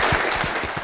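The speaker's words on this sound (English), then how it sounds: "Please give our panelists a round of applause" A conference audience applauds the panelists of a session on facilities innovations, a dense, steady patter of many hands clapping at close range.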